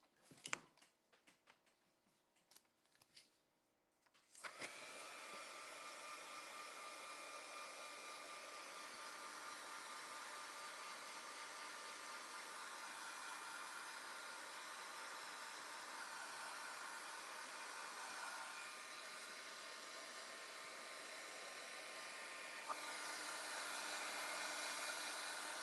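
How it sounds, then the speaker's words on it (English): A craft heat tool blows steadily to dry a card, a loud continuous whooshing hiss that starts abruptly after a few seconds of quiet handling clicks and runs unbroken to the end. "Let me dry this off with my heat tool."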